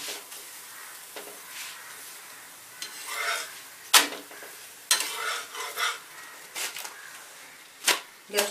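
Tilgul poli, a sesame-jaggery flatbread for Makar Sankranti, roasting until crisp on a hot griddle, with a soft steady sizzle and a few sharp clinks and scrapes as it is turned.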